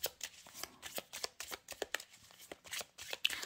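Tarot cards shuffled by hand for a daily three-card draw, a rapid run of crisp riffling flutters and soft slaps close by, continuous for a few seconds with no talking.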